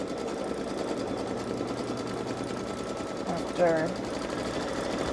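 A Babylock Solaris Vision embroidery machine runs its stitching in a steady, even whir beneath a person talking.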